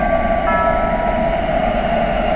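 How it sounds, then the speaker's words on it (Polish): A Warsaw M2 metro train in a Roblox game stands at Dworzec Wileński station with its doors opening, a steady loud synthetic hum and rumble with a brief chime-like tone near the start. "Drzwi otwierają się z lewej strony."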